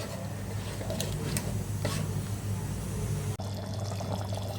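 Water is poured into a cooking pot holding moong dal for barley nonbu kanji, a steady close splashing pour over a low background hum, tapering off with a brief shift near the end.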